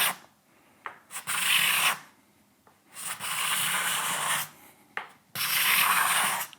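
A card scraper shaving figured wood, with three long rasping strokes, each lasting about a second and a half, separated by short quiet gaps and softer handling taps, loud and close with no talking.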